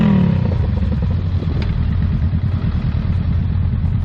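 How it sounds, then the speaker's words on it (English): A motorcycle engine on a group ride rumbles loud and low with rough, continuous throbbing and a brief rise in pitch at the start, close to the rider, with no talking. "Oh my God, Ziggy's bike"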